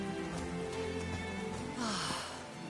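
Rain falls on a mountaintop in the video game Call of the Sea, a soft, steady patter of drops that swells briefly near the end.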